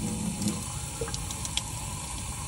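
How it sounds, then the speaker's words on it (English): Running tap water rinsing a paint brush at a sink, a faint steady stream of water with a few small splashes and clinks. "Rinse it off."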